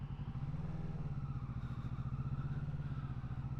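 A motorcycle engine idles and pulls steadily at low revs through a slow, tight turn around a cone, a continuous near mid-pitched throb with light mechanical clatter and slight throttle swells.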